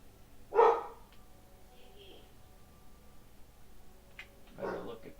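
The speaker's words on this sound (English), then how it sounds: "Why are the dogs barking at 12:30 at night?" Two short bursts of dog barking at night, one near the start and another near the end, moderately loud over a quiet room hum with a faint background tone between them.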